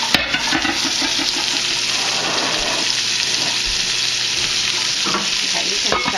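Deer steak browns in a frying pan, a loud, close, continuous sizzle and crackle with occasional stirring scrapes, and no voices.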